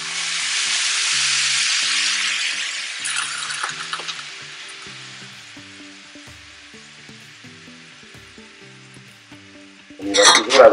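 Risotto rice sizzling loudly in a pan, the hiss fading as broth goes in and stirring continues, while two people talk throughout, ending with a sharp burst of clattering.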